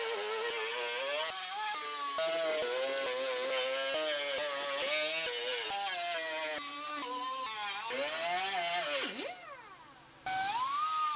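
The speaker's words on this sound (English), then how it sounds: "And now we'll grind out our spot welds." Grinder cutting out spot welds on the body panel of a Lexus RX330, a loud steady high whine that wavers in pitch, briefly dips and cuts out near the end, then resumes.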